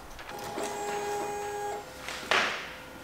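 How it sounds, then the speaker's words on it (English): An embroidery machine runs briefly as it traces the outline of a design on a Nike crewneck sweatshirt, giving a quiet motor whine with steady tones, followed by a short louder mechanical clack. "Now I'm going to trace it one more time just to make sure that the needle will not hit this edge bit."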